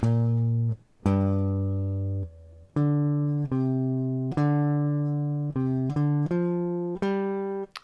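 A guitar plays a short riff of plucked single notes, some ringing out long and others cut short in a quick run, clear and close.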